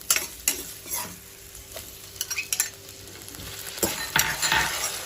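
Capsicum and tomatoes sizzle in a hot pan for vegetable masala Maggi while a spoon stirs them, giving soft scraping clicks over a steady frying hiss. The stirring grows busier toward the end, and nobody speaks.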